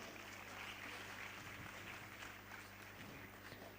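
Steady, dense applause from a crowd at a college careers day, fairly faint and continuous throughout, with no voices standing out.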